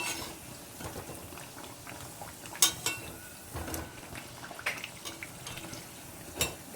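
Masala toast roasting and being flipped in a pan, a soft continuous sizzle broken by occasional clinks and scrapes of a utensil.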